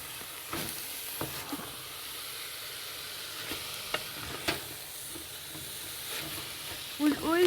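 Soft carrots for gajar ka halwa being stirred and mashed in a pan, with scattered scraping knocks and a faint oily sizzle throughout, a few louder clunks near the end.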